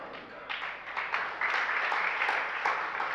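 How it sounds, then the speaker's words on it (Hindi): An audience breaks into applause during a Jain sermon, a brief burst of clapping that swells and holds steadily for a few seconds, fairly close. "ताली क्यों बजाई?"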